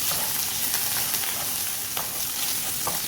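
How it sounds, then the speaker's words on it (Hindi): Mushrooms stirred into sautéed garlic in a pan give a dense, continuous sizzle with light spatula scrapes throughout, close and fairly loud, with no speech. "अब मैं इसमें 1 कप मशरूम्स के डालूंगी। डालकर मैं अच्छे से मिक्स कर लूँगी।"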